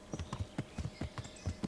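Horse hooves clop at a steady trot in Kingdom Come: Deliverance, about ten even, close hoofbeats in quick rhythm, heard alone without speech.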